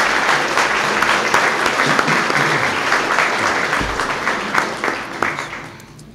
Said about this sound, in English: Let's give Jennifer a round of applause.